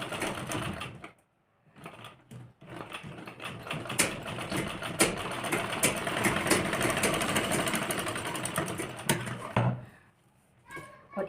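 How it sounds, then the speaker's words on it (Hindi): A sewing machine stitches pleats into a lehenga blouse, whirring in a brief burst, then running steadily for several seconds before stopping, with short quiet gaps around the runs. "यहाँ पे 2-3 बार सिलाई लगा लेंगे"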